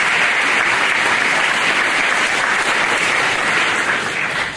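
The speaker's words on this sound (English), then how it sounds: "So y'all can clap" A graduation audience claps loudly and continuously, a thick, even roar of many hands that holds steady before tapering slightly at the end.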